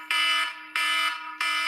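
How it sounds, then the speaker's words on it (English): A personal alarm goes off with a loud, harsh, buzzing electronic tone repeating in three evenly spaced bursts about two-thirds of a second apart, close and alone. "my alarm keeps going off"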